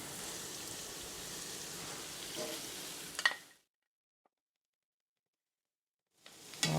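Corn sizzles and fries in a hot pan, a soft, steady crackling hiss that abruptly cuts to silence for a few seconds, then the frying sound returns.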